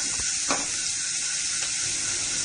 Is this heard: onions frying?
yes